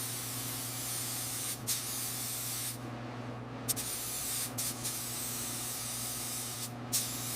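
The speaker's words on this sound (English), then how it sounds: "I'm laying down the gray primer on the bare metal of this 1904 Thomas Flyer chassis." Spray gun laying gray primer onto the bare metal chassis of a 1904 Thomas Flyer, a steady continuous hiss broken by a few short pauses between overlapping passes, close and alone.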